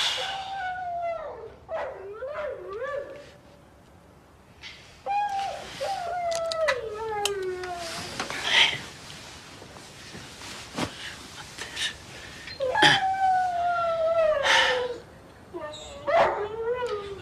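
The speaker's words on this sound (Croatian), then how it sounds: "Ko da prvi put čuješ da zavija pas?" A dog howls in several long, wavering rising and falling cries, fairly close and loud, interspersed with yips and whimpers, while people talk over the sounds at night in a domestic scene.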